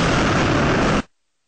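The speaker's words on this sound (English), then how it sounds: "Hamas released a video claiming to show 2 Israeli tanks in the Gaza city being fired on with missiles from a house" A dense, roaring blast of missile fire aimed at Israeli tanks in Gaza City, loud and broadband for about a second before it cuts off abruptly into silence.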